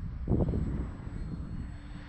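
An Arrows RC Trekker trainer plane flying over a grass field, its electric motor a steady mid-distance drone, fairly faint and without talk.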